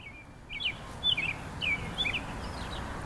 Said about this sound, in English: Birds chirping, y'all.